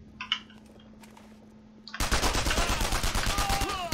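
Rapid automatic gunfire from the World War II shooter Mortyr IV: Operation Thunderstorm erupts suddenly after a quiet moment, a loud, steady burst of closely spaced shots continuing to the end.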